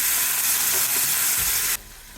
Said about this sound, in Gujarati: વઘારની અંદર લઈ લઈશું 2 ટેબલ સ્પૂન જેટલું પાણી.